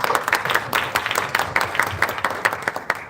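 Audience applause at a Korea Wildfire Society presentation, a dense burst of many hands clapping throughout, close and lively, with a few faint voices mixed in.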